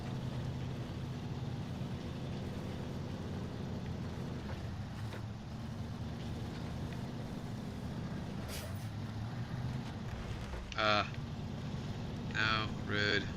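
A truck engine in a video game drones steadily while the truck drives a rough road, a continuous low rumble with a few sharper knocks from bumps near the end.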